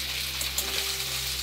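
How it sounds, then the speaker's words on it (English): Potatoes fry in a pan on a van-life camp stove, a steady close sizzle with faint crackles throughout and no talking. "Alright, potatoes are frying up."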